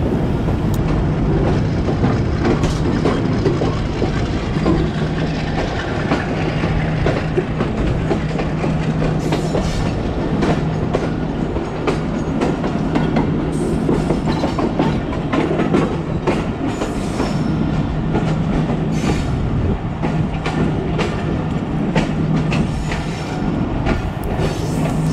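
The Mehar Express passenger train rolls along the rails between Multan and Kot Addu in Pakistan, a loud, steady rumble with continuous clickety-clack of wheels heard from on board, no talking.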